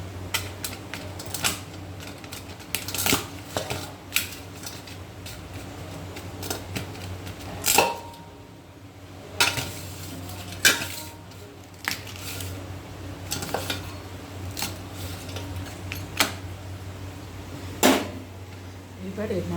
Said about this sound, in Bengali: একটু মাছের মাথাটাকে একটু ভেঙে নেবো ছোটো ছোটো করে